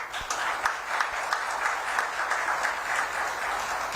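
An audience at a golden jubilee celebration with a vice president present applauds steadily and fairly evenly for several seconds, a dense crowd wash with no speech over it.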